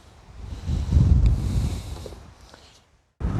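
Strong wind on an exposed golf course at the 14th hole, gusting and rumbling hard into the microphone, building to a peak then easing off before a brief lull and another loud gust.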